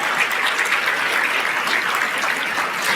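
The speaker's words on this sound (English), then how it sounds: "Yes, you can clap, because I know what you feel." Large conference audience at a homelessness plenary breaking into sustained applause, a dense, even roar of clapping hands at steady volume with no voices on top.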